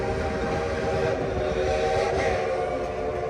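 The Dollywood theme-park train at the park rumbles steadily with a continuous loud mechanical drone, and a whistle-like tone is mixed through it for the whole stretch, with no talking.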